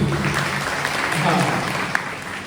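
An audience at a public community gathering gives a loud, continuous round of clapping that stays dense and even throughout.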